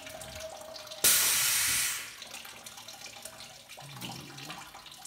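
Water gushes through a plumbing fixture during a flush test, a loud sudden surge that holds for about a second, then tapers into a lower running trickle with faint background noise.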